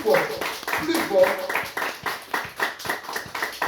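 A church congregation claps in a fast, steady rhythm, the loud, close hand claps repeating evenly while a voice talks over them.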